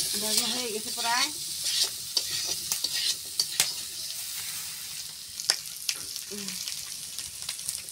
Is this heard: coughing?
no